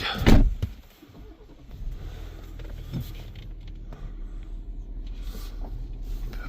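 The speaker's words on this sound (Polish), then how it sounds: "Parkuje trochę samochód." A car engine idles and rumbles nearby as the car is slowly parked at a tow-truck base, with a thump at the start and faint shuffling noises.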